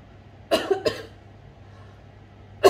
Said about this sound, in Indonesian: masih batuk, masih ya kayak beginilah